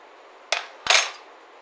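Two short metallic clinks of a spoon against a bowl while salt is mixed into ginger garlic paste, close by and alone, with quiet pauses between.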